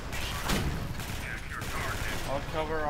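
Gunfire in Alien Swarm Reactive Drop forms a constant loud rattle of rapid shots with mechanical clatter. Voices are audible over the shooting.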